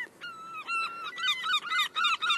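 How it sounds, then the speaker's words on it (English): Seagulls being fed by a woman outdoors give a run of loud, close, honking calls, first a few spaced cries and then a quick repeated series, with no voices over them. "There's a lady feeding seagulls up here."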